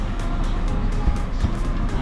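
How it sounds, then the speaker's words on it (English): A 2020 Volkswagen Tiguan engine idles at close range, a low steady rumble with small bumps and clicks over it. "So I have the car running on right now."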